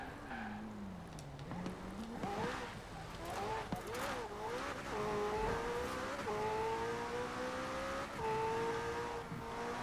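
A LEGO car driven in the Forza Horizon 4 racing game, engine pitch climbing steadily and shifting through gears at speed, a continuous close revving drone with a voice talking over it.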